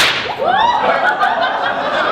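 A whip snaps once in a sharp crack aimed at a cigarette held between someone's lips, followed by a brief swishing tail and no talking.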